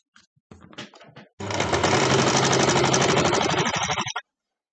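Sewing machine stitching scrap fabric, a few short stuttering bursts followed by about three seconds of steady rapid mechanical chattering, close and loud, then stopping abruptly.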